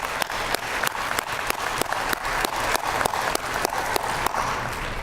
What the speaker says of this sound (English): Let's give our city a round of applause.